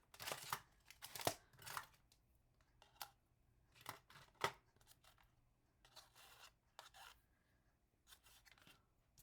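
Scissors snip through Noro Yukata knitting yarn, a series of soft, close, crisp cuts and clicks spread unevenly across a quiet background.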